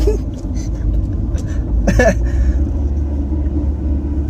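A Tofaş Şahin 1.6 i.e. car drives along a road, a steady low rumble heard from inside the cabin, with people talking over it.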